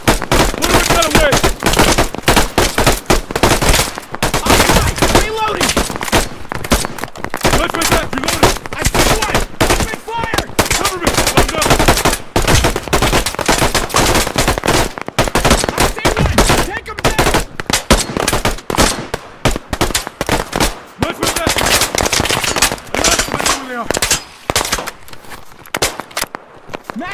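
Gunfire in the PMC video game, dense bursts of automatic rifle and machine-gun fire with scattered single shots, rapid and loud throughout, interspersed with footsteps and brief shouted voices.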